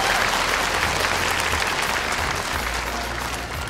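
A large audience claps steadily at a beauty pageant, loud, dense and continuous applause from a big indoor crowd, easing off slightly toward the end.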